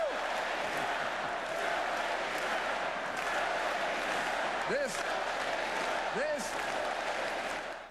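A large outdoor crowd cheers and claps continuously, with a couple of rising whoops and shouts cutting through the dense roar before it cuts off abruptly.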